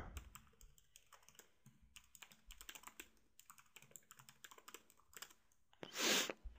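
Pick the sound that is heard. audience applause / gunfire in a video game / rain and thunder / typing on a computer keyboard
typing on a computer keyboard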